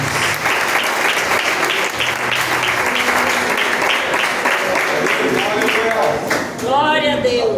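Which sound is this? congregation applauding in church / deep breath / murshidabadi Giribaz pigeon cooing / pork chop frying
congregation applauding in church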